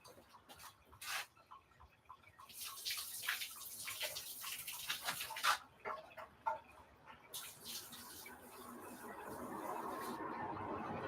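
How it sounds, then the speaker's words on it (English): Homebrewed NE IPA splashes and gurgles as it is poured out of a keg, uneven glugs and liquid splatter building into a steadier pour toward the end, close and fairly quiet. "I'm actually going to pour some out to make headroom in this keg"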